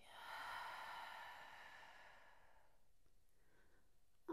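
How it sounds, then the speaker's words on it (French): Someone in a yoga breathing exercise lets out a slow, soft, breathy exhale that fades over about three seconds, heard close and quiet with nothing else around it. "Et expire."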